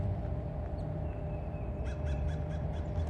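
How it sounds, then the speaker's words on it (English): A crow caws in a short run of repeated calls amid chirping birds after rain in Georgia, set against a constant broadband wash of background noise. "There are all different type of birds chirping."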